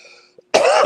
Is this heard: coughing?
yes